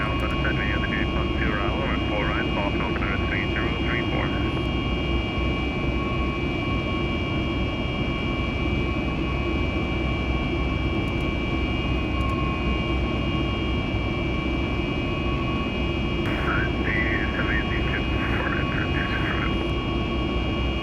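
A simulated airliner climbing out of Boston after takeoff in a VATSIM flight session, a loud continuous jet engine roar with steady high whine holding throughout, with faint cockpit sounds and occasional radio chatter underneath.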